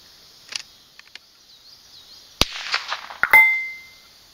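At a 200-yard plate rack, .22 rifle shots crack out near and sharp, a few seconds apart, followed by a faint metallic ring from a steel plate hit at distance against a quiet background.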